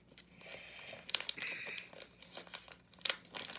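A Yu-Gi-Oh card pack wrapper crinkles and tears open in a run of close, sharp crackling bursts, with brighter rips near the start, middle and end.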